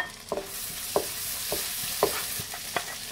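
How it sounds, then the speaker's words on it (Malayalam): Ginger and green chili sizzling in hot oil with cloves, cardamom and cinnamon for north Indian butter chicken, a steady close fry broken by several sharp scraping stirs of the spoon, no talking. "ഇനി ഇതിലേക്ക് ഇഞ്ചിയും പച്ചമുളക് ഇടാം"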